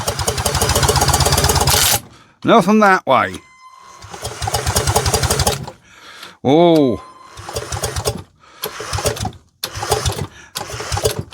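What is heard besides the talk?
electric drill trying to turn a stuck 1930s two-stroke mower engine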